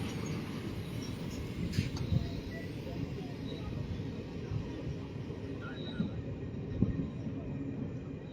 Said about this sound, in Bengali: ময়নাপুর রেল স্টেশনে এই মুহূর্তে প্রবেশ করলো সিআরএস স্পেশাল ট্রেন।